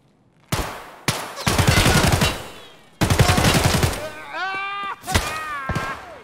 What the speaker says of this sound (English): Getting shot at in the back.